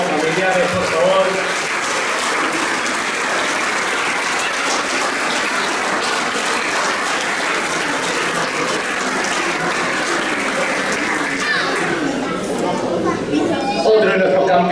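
Long, loud audience applause at a 50th anniversary celebration of the 1974 championship, honoring champions and their families; dense continuous clapping with crowd chatter mixed in, thinning toward the end.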